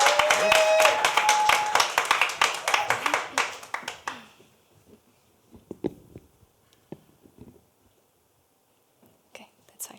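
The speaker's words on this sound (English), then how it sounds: "Let's give you a round of applause" An audience at a Poetry Africa scholars session gives a round of applause, dense clapping that thins out after about four seconds, leaving a few scattered claps and soft murmuring.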